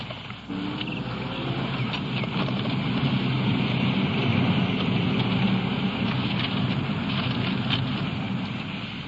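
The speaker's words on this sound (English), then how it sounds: "the possibility of rain I mentioned earlier is here now. In fact, it's coming down pretty hard." Heavy rain coming down hard on a late evening, a dense steady hiss of downpour with a constant roar that stays loud throughout and has no talking.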